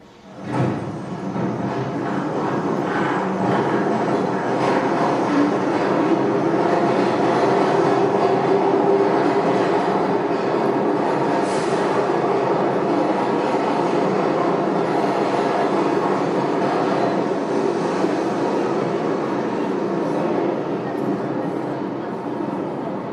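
A train moves steadily along the rails, its rumbling rolling noise loud and continuous throughout, rising briefly at the start and holding without pause.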